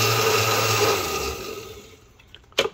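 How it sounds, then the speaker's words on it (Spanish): A blender whirs steadily while mixing a coconut atole drink, running loud for about two seconds before it cuts off and winds down, ending with a brief clatter. "En este caso pues, lo vamos a licuar."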